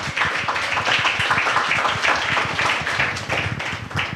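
A Good Friday church congregation claps hands loudly, a fast, rhythmic burst of many hands close by, steady throughout.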